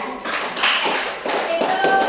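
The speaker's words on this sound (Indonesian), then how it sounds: "tepuk tangan untuk kelompok 3." Applause for group 3 in a classroom activity: a few short bursts of clapping and tapping from a small group, fairly close and uneven, with brief pauses between bursts.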